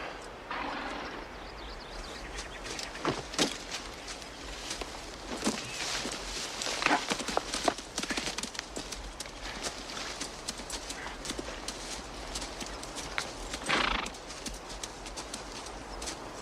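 Horses walking with steady, uneven clip-clop hoofbeats on hard ground, fairly quiet and continuous, with a faint whinny and scattered background rustle.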